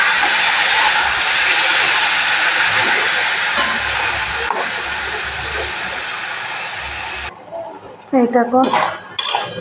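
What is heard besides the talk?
stirring sattu frying with onions in a pan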